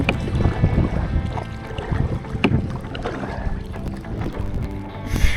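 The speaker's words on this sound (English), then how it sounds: "This wind is ripping." Strong wind buffets the microphone in continuous gusts on the Suwannee River, with rushing roar throughout and water lapping faintly underneath.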